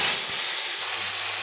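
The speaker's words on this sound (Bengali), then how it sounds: "একটা তেল দিয়ে দিলাম, জিরা ফোড়ন দিয়ে" Cumin seeds tempering in hot oil for a potato and pointed gourd curry give off a steady, bright hiss, close and even throughout, with no voices over it.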